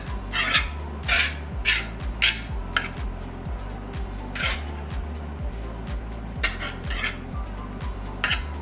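Couscous grains stirred in a pot as the water soaks in, with a steady run of regular scraping strokes and soft clinks against the pan, close and fairly loud, with no talking.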